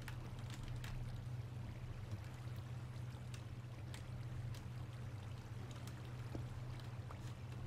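Running water in a UHC survival video game flows steadily and continuously as a close, even rush with a low hum beneath it and faint clicks over the top, with no one talking.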